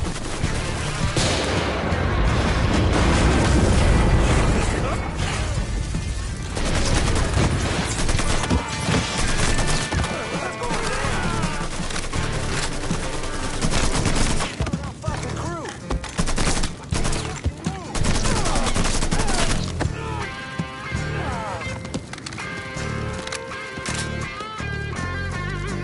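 Heavy gunfire in a PS4 shooter, with long stretches of dense rapid bursts and scattered single shots, loud and continuous, partly broken by short pauses, with voices speaking now and then over the shooting.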